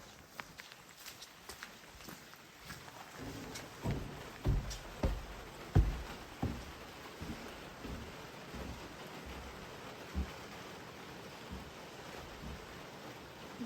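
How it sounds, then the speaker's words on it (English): Heavy rain sets in over a winter campsite by a lake in New Zealand, a dense steady patter with scattered louder nearby drops and thuds, and no talk. "Good timing. Here comes the rain."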